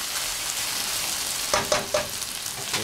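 Chopped red onions frying in a pot for shrimp gumbo, a steady loud sizzle with a few clacks of a stirring utensil partway through, no voices.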